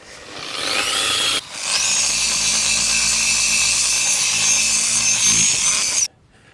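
A power polisher buffs the hull of a small dinghy during spring maintenance, a steady loud whine and rubbing drone that stops briefly, resumes and runs continuously before cutting off near the end.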